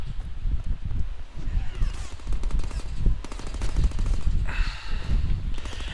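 Gunfire in the Deadpool video game crackles as rapid, dense bursts of shots, continuous and loud for the whole stretch, with scattered clatter layered over the shooting.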